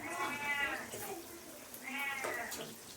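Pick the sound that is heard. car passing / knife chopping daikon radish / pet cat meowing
pet cat meowing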